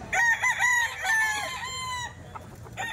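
A Kelso ball stag, a young gamecock, crows up close several times in quick succession with a clucking tail, loud and clear with no talking.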